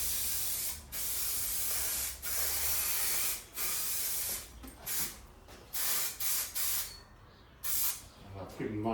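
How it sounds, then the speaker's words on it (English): Bursts of spray adhesive hiss onto vinyl trim during a 1969 Triumph Vitesse restoration, loud close sprays in repeated passes with short pauses between them. "What I'm going to do now is give the vinyl a coat of adhesive as well."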